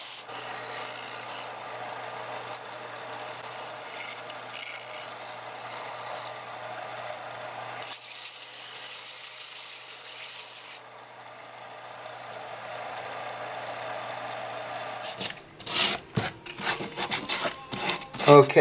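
A painted wooden box is distressed by rubbing it down, giving a steady scratchy rasping that runs for a long stretch and drops out briefly. It ends in bursts of knocking and handling noise, close up with no talking.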